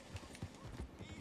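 Horse hooves clip-clopping in the video game Red Dead Redemption 2, a short run of soft, evenly spaced thuds, muffled and fairly faint, under low talk.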